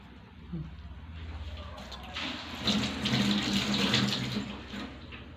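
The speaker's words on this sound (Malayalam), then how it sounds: "ലേശം വെള്ളം ഒഴിച്ചു കൊടുക്കാം വേവാനുള്ള വെള്ളം" Water pours steadily into a cooking pot of banana pulissery, a rushing splash that swells louder toward the middle and then tapers, close and alone.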